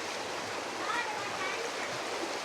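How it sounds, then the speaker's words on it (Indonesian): A strong, fast current of tidal flood water from the sea in Muara Angke, giving a steady close rushing wash that stays even throughout. "Ini cukup kencang di sini nih arusnya. Deras banget."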